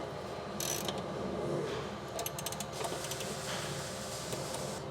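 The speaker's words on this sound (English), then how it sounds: "I'm going to snug up the bolts so that I can still move the plates" A ratchet wrench snugs up bolts on Cadillac CTS-V subframe plates, clicking in short, rapid bursts against a steady background hum.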